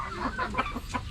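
Darag chickens cluck several times in short repeated calls at close range on a backyard farm, with no talking.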